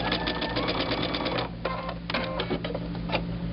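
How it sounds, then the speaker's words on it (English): Sewing machine stitching a partial seam on quilt pieces, a close rapid whirring run followed by several short start-stop bursts. "I'm going to sew a partial seam"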